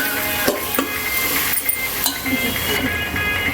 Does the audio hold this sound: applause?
no